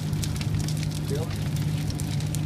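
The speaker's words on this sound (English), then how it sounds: "Ain't no blower or nothing. It's just a natural" A natural wood fire burning with no blower, crackling and hissing steadily nearby while someone talks over it.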